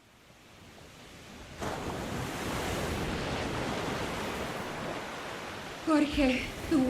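Ocean waves wash in a steady broadband roar through the middle of a scene from the video game The Flower Collectors, with some wind. Brief voices and clicks come in near the end.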